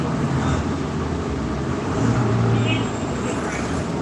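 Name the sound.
loud bus passing on the street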